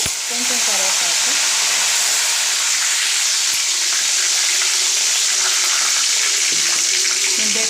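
Dried red chilli, cumin, mustard seeds, chana dal and curry leaves crackle and spit in hot oil, a loud, dense, unbroken sizzle held close throughout.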